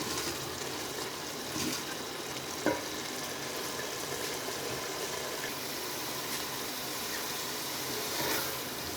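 Powdered spices roasting in oil in a pan for an aloo arvi curry give a steady, soft sizzle throughout, with a few faint clinks of stirring and no talking.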